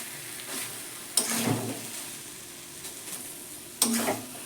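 Potato pieces fry in a hot pan with salt, sugar and spices, making a steady close sizzle broken by two sharp scrapes as a utensil stirs them.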